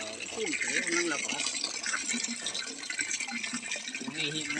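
Continuous rushing water gushes steadily from a newly drilled well, loud and close, while several people talk over it.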